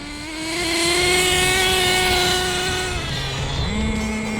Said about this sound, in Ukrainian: Машинка розганяється до 50 менш ніж за 7 секунд.